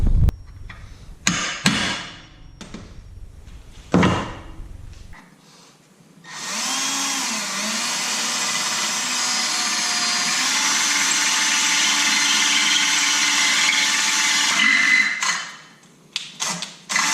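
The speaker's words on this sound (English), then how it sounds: "I'm just going to punch that quick and drill it out also to a 1/2 inch" A power drill whirs steadily for about nine seconds drilling a 1/2 inch hole through metal for a transmission mount, loud and close, with a few knocks and clanks before and after.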